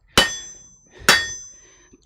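A blacksmith's hammer strikes metal in a smithy, two sharp ringing clangs about a second apart and close by. Each blow leaves a bright metallic ring that fades away, and the start of a third blow cuts in at the very end.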